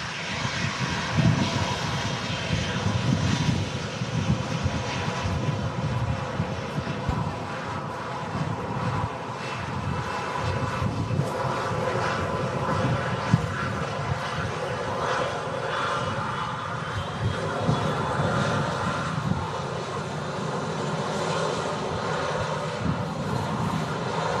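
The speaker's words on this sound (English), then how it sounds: "The thrust getting applied there, bit of smoke out the engines." A Boeing 757-300 at Manchester Airport powers up its jet engines, a loud sustained roar that swells and holds over the full stretch, with wind noise in the background.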